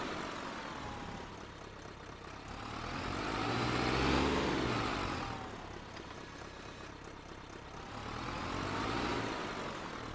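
A tractor engine in the Farming Simulator video game drones steadily, swelling and easing twice as it labours, with no talk over it.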